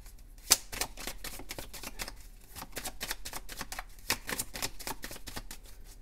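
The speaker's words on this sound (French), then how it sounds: "Je peux faire la coupe, Béline, s'il te plaît?" A deck of cards being cut and shuffled, close and quiet, with a sharp snap near the start and then a steady riffling patter of cards.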